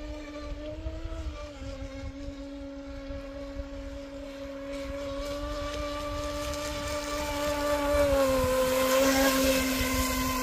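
An RC boat with a TP motor whines at a steady high pitch that slowly climbs and grows louder over about ten seconds, running alone with no voices.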